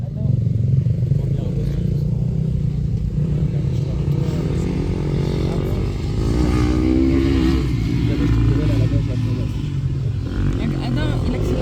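A motocross motorcycle accelerating on a dirt track during a first-time outing, its engine droning loudly and steadily before rising in pitch as it revs harder, with people talking over it close by.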